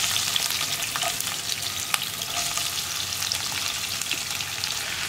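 Onion, ginger and garlic sizzle in a pan as the base for a North Indian chicken curry, a close, steady crackling fry with occasional stirring scrapes and no voices.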